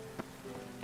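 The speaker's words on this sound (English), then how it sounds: "Rain again." Steady rainfall in the video game The Witcher 3: Wild Hunt patters across a surface as a soft, dense wash, with a few slightly louder drops standing out.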